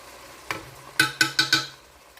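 Garlic dropped into a hot pan for green chili, a soft sizzle followed by four quick, sharp scrapes of stirring in close succession, close and fairly quiet.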